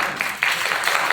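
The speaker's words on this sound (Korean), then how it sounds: "박수를 너무 빨리 치면 안 돼요" Brief, moderately loud applause from a church congregation at a Korean youth conference right after a sermon, a dense patter of clapping throughout.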